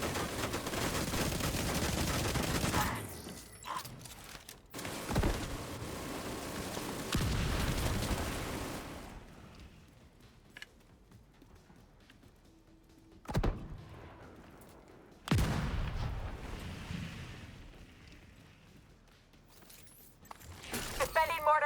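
Mortar fire in a video game, with heavy bursts of blasts and rumbling booms that come in loud waves, separated by quieter gaps and a few sharp single hits.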